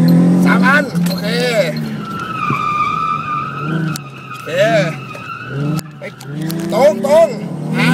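Nissan SuperZ tearing through a gymkhana course, tires skidding and squealing in repeated sweeping bursts as it brakes and turns, with engine noise underneath and people talking over much of it.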